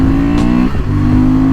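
Honda 750 Transalp motorcycle engine pulling hard with a steady, loud drone, its pitch dipping briefly mid-clip as if shifting gear before climbing again.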